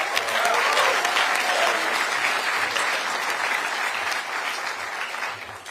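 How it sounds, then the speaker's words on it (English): Crowd applause welcoming a speaker at a political rally, a thick, steady wash of clapping that starts strong and gradually fades toward the end. "Everyone give a big round of applause and a warm welcome to Ben Cochran."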